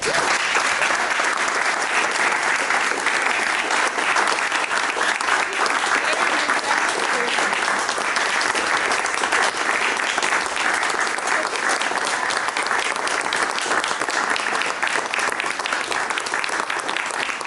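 Sustained, loud applause from a lecture audience fills the room evenly from start to finish after a tribute talk, with dense clapping and no breaks.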